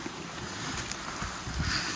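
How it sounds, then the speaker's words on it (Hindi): Waterfall flowing in a forest in Tirthan Valley, a steady broadband rush of water, fairly close and even, with some wind buffeting on the microphone and no speech. "देखो पानी आ रहा, अच्छा झरना इतों ही आ रहा"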